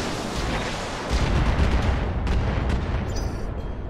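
Heavy mech weapons in a BattleTech game fire in a dense barrage, a continuous roar of booming blasts with a louder surge partway through and sharp crackling impacts near the end.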